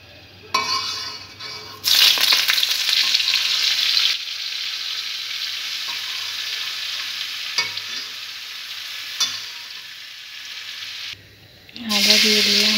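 Butter and whole cumin sizzling in a pan, a bright steady hiss that swells as ingredients drop in, with occasional clinks of a utensil against the pan and a brief quieter gap near the end.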